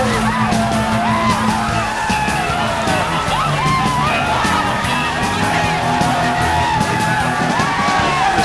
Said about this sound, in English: You can hear the exuberance of the crowd.